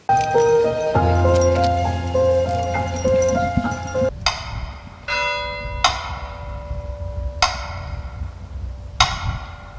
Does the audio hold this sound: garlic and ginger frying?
no